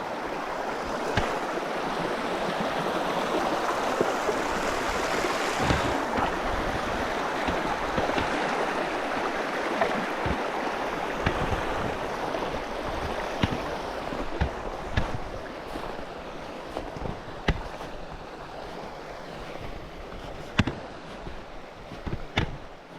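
A river flows past a campsite in grizzly country, a constant broadband rush of moving water close by, broken by scattered clicks and knocks of someone moving about, with no speech.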